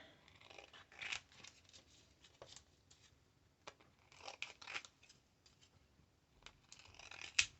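Scissors cut through faux leather for glitter earrings, a series of quiet, close crunching snips in uneven bursts with pauses between, faint and without talking.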